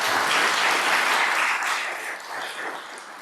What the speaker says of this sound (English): please join me in a round of applause for the man of the hour, Mike.